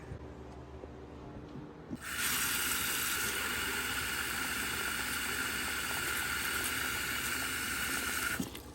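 Water runs from a tap over cranberries with baking soda in a steady, loud rushing stream for several seconds, starting abruptly and stopping just as suddenly.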